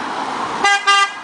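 Two short car horn honks sound close by, the second slightly longer, over a steady rumble of passing traffic.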